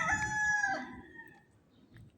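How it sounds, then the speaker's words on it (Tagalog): A rooster crows once nearby in a residential area, a loud rising call that trails off, with faint background noise and no talking. "May naririnig ba kayong manok guys?"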